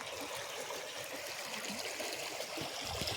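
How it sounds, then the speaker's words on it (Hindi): Fast-flowing river heard from the bank as a steady, broad rushing wash of water, moderately near and unchanging, with no talk. "देखिए कितना तेज़ बहाव है।"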